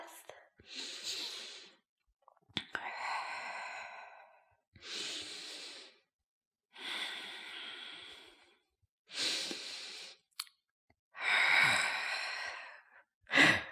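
Deep, slow breaths during a held yoga pose in a side-splits flexibility session: a series of close, airy inhales and sighing exhales with short silent gaps between them.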